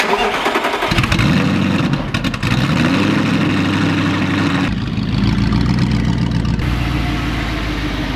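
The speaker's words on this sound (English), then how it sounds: "This is a cold startup on a straight piped Audi R8." A straight-piped Audi R8 cold start: a loud engine fires up with an abrupt roar, then settles into a rough, heavy high idle that stays loud and unbroken throughout.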